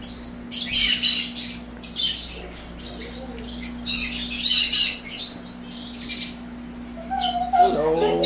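A bird at a market gives repeated harsh squawks and chirps in loud bursts over a steady low hum, with people talking faintly nearby.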